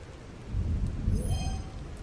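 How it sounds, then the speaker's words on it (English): Rain ambience in a VRChat world map, a soft, continuous patter with a low rumble that swells slightly in the middle, quiet and even with no voices. "This has rain, yes."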